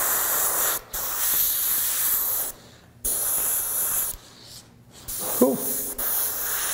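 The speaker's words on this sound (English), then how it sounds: "I kept the airbrush very close, that way if I'm back here spraying, I could get airbrush overspray up there." An airbrush sprays paint in several steady hissing bursts, separated by short silent pauses, up close with no talking.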